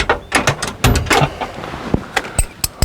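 Bolts are tightened on a slide room timing bar, giving close, sharp metallic clicks and ratcheting clanks in an irregular rhythm.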